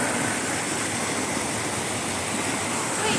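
River water flows steadily through a backyard forest, a dense, broadband rush that stays constant and close throughout, with no voices.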